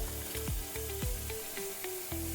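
Turmeric powder and other ground spices tipped into a hot pan of oil for a paneer bhaji, giving a steady close sizzle with a few soft stirring scrapes and no voices.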